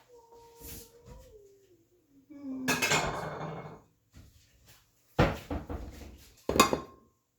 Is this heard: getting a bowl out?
yes